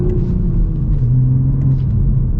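A Toyota GR Supra with a manual gearbox and a B58 engine pulls hard at low revs, giving a steady, loud, close engine rumble throughout with no talking.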